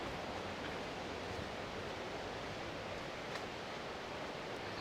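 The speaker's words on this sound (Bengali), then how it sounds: "ঝর্ণার শব্দ শোনা যাচ্ছে।" Steady, dense broadband rush of a waterfall in a forest in Meghalaya, a continuous even roar with no pauses, heard alone without voices.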